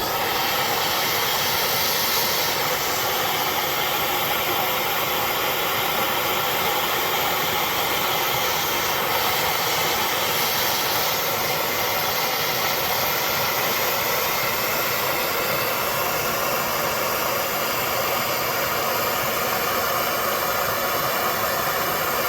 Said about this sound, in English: So I'm going to grab my little bottle torch. We are going to apply a lot of heat.